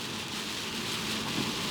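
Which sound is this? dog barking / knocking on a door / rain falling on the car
rain falling on the car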